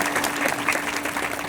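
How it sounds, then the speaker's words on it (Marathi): Vigorous clapping from a village audience at a kirtan fills the short stretch evenly, a dense crowd applause without breaks. "आपल्या गावातल्या सगळ्या युथचं सगळ्या ग्रुपचं एकदा जोरदार टाळी वाजवून कौतुक करू."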